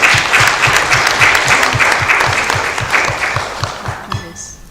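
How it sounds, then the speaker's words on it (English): Audience at an end-of-program event for a women's economic opportunities initiative giving a round of applause, loud close clapping that gradually thins out toward the end. "please give them a round of applause"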